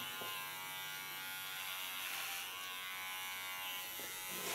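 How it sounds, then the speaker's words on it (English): An electric hair clipper trims the neckline of a short pixie haircut, buzzing steadily and close for the whole stretch, with no talking. "The clipper only takes off the hairs."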